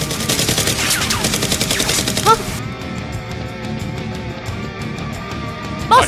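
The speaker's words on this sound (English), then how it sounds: "Seal X tries to charge out and shoot at Rose and Dr. Lee, but they fire back" Toy Nerf guns fire in a rapid, dense burst of clattering shots for about two seconds during a staged Nerf battle, followed by quieter scattered pops and another sharp shot near the end.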